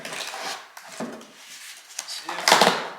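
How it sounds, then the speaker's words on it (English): Nails are pried out of an old wooden small table or bench with a pry bar and hammer, giving close scraping, creaking and rubbing of metal against wood with a few sharper knocks and no talking. "Get these nails out. We're going to try to use a pry bar"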